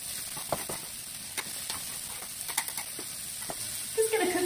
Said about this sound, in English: I'm just gonna put my chopped onion into this pan now